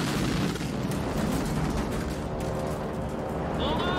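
A lead B-17 bomber blows up in midair during a World War II air battle, a loud, continuous roar of blast and engine drone with crackling gunfire-like bursts, sustained throughout.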